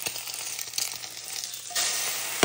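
An egg fries in a stainless steel pan with a steady, fairly quiet sizzle and a few small crackles, growing a little brighter and louder near the end.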